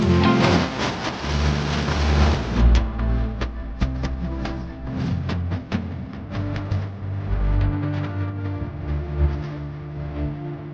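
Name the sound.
waterfall falling with force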